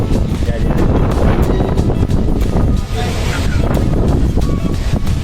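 Strong gusting wind roars continuously and loudly across the microphone on a foggy morning bike ride along a loop road, a dense rumbling buffet that barely lets up, with a voice speaking over it.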